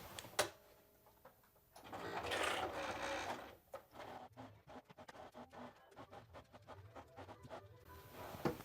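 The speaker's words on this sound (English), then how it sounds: "I'm going to carefully stitch around." A sewing machine stitches around the edges of fabric in short runs, a close, rapid mechanical whirring and clattering with brief pauses and fabric handling noises between bursts.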